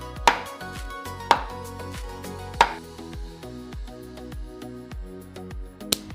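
A knife chops cheese for a cheese sauce on a cutting board, three crisp thuds about a second apart followed by lighter, rapid cutting sounds and a final tap, close and clear with no talking.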